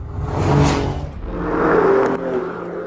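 An Alfa Romeo Giulia Quadrifoglio four-door saloon accelerates hard, its engine swelling loud and close in two surging revs with a whooshing rise and fall, without any voices.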